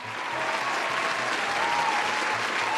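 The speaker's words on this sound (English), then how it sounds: "Give them a round of applause, Dima." Audience applause fills the room in a dense, steady wash of clapping that stays even and fairly loud from start to finish, with no talking over it.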